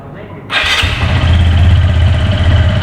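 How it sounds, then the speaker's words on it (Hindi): A CFMOTO 150NK/250NK motorcycle fires up and settles into a close, loud, steady bassy exhaust idle. "ये है इसका एग्जॉस्ट साउंड, थोड़ा बेसी साउंड है इसका।"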